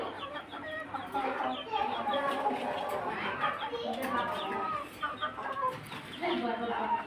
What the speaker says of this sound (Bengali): সব হয়েছে আমার দেশি মুরগি